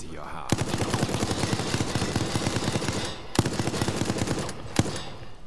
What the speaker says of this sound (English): Oh no, it's a machine gun